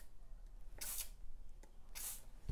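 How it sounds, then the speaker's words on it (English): Two quick hissing bursts from a hand spray bottle mist water onto a paper penguin in a preschool classroom activity, close and quiet with a pause between them. "you're going to go ahead and spray your penguin"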